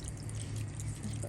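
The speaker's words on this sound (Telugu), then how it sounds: "కొంచెం వాటర్" A small splash of water poured into a steel kadai of frying paneer curry masala, a brief, steady liquid pour close by with no talking.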